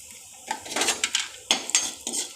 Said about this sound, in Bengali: এটাও অল্প একটু নাড়াচাড়া করে নেব।